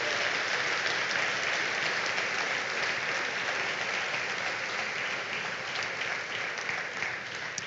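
A church congregation applauds during a Sunday morning service, a dense, steady wash of clapping from many hands that holds evenly throughout with no voices on top.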